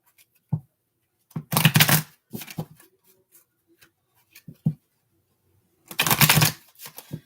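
Tarot cards being shuffled and drawn by hand, with a few short riffling bursts separated by quiet gaps and light taps. The sound is close and moderate in level, with no voice.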